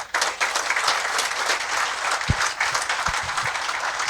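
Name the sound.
audience applause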